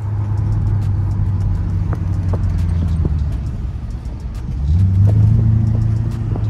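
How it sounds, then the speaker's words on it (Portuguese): A Porsche Panamera with its exhaust opened idles close by, a deep steady rumble that swells into a fuller, louder growl for a moment before settling back. "O barulho dele ficou mais bonito muito, depois que você abriu o escapamento."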